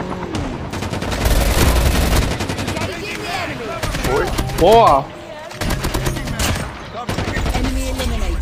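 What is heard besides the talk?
gunshots in video game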